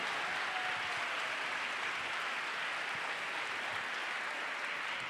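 Audience applause at a teen conference in Lahore, a continuous, fairly distant wash of clapping from a crowd, steady and even throughout without voices over it.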